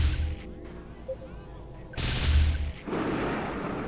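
Weapon fire in the Battlezone 2 vehicle combat game: booming shots with rumbling low-end blasts, a lull, then louder sustained firing and bursts, moderately loud.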